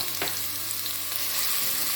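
Chopped onion frying in a pan with salt for an Italian ravioli and tortellini dish, a steady close sizzle that runs without a break and has no talk over it.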